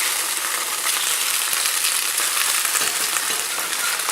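Tofu slices grilling in a pan, a steady close crackling sizzle of oil that holds evenly throughout with no talking.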